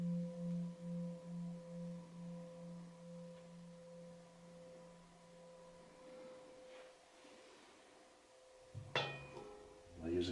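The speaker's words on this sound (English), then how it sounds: "you tap this one with this mallet gently, you invite the sound, which will be a bass tone of the instrument" A RAMIVANA instrument tapped gently with a mallet gives a faint, low, humming bass tone that pulses and slowly fades. Steady higher ringing tones follow, and a few soft knocks come near the end.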